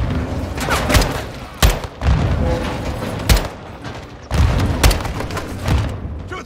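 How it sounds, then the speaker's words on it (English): Grenade explosions and heavy gunfire in Modern Warfare II, a loud battle with several sharp booming blasts at irregular intervals over a constant roar of combat. "They're launching grenades!"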